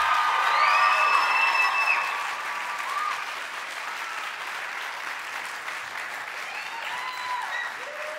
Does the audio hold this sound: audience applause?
yes